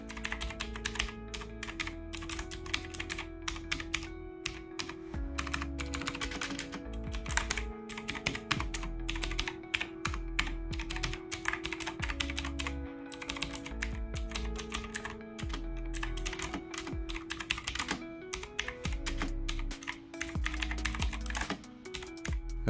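Blue switches on a SVEN KB-G9150 mechanical gaming keyboard click sharply in a rapid, steady stream of typing, close and crisp, with a low hum running underneath.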